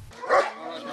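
Seven-month-old puppies being raised for a police dog unit in Port Moresby give one short yelping bark up close, then softer whimpering noise trails off over a faint background.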